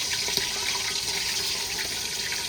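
Tap water running steadily while raw chicken is washed in a home kitchen, a continuous soft splashing hiss with a few light knocks, close and without speech.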